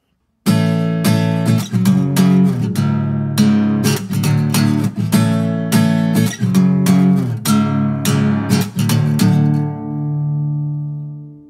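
A guitar plays the chord part of a song, with steady strummed chords in a repeating rhythm, close and fairly loud, ending on a held chord that rings out. No voices are heard.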